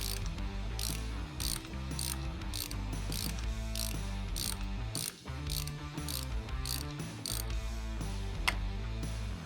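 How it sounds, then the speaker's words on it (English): A wrench with a 9/16 Allen bit ratchets at the lower front fork pinch bolt on a motorcycle's 39mm fork: rapid, close, steady metallic clicking for the whole stretch, with a brief pause midway. "Now I'll come around to the other side and take off this lower front fork pinch bolt."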